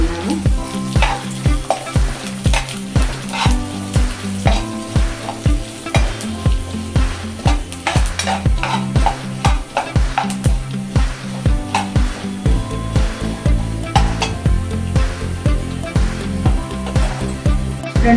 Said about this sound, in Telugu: మినప్పప్పు, జీలకర్ర, ఈ 3 పదార్థాన్ని వేయించుకున్నాము.